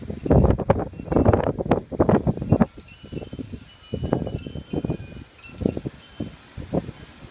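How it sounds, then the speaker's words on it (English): Strong Santa Ana wind gusts shake trees, making loud surging bursts of roaring, rustling leaves and buffeting that swell and ease repeatedly throughout. "Here comes a big gust."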